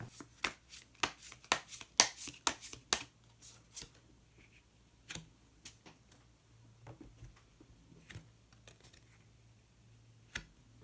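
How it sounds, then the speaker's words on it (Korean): Tarot cards being shuffled and drawn, a quick burst of crisp riffling flicks at the start, then sparse, faint single card snaps and slides at a close distance in a quiet room. "그러면 히든 카드를 한 장 더 뽑아보도록 하겠습니다."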